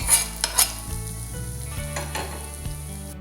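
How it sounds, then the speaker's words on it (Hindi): Hot oil tempering of spices (tadka) is poured onto cooked rice with turmeric for South Indian lemon or curd rice, giving a loud, continuous close sizzle with a few sharp spoon clinks and stirring scrapes. "ये तड़का भी डालना है।"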